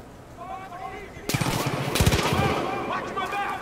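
Rapid bursts of gunfire from the Far Cry 5 video game, several sharp loud shots clustered in the middle, with speech present around them.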